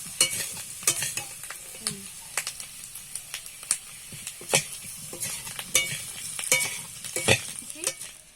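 Potatoes frying in a pan for Kashmiri aloo dum, with a soft continuous sizzle under frequent sharp clicks and scrapes of a spatula stirring against the metal, close and moderately loud.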